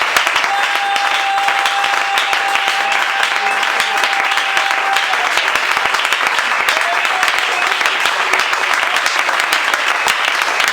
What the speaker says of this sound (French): Alors donnons une forte acclamation.